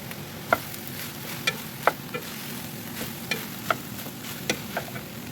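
A utensil scrapes steadily through a hot pan of goat meat stir-fried with holy basil and bean sprouts, with regular clanks over a constant low sizzle and no voices.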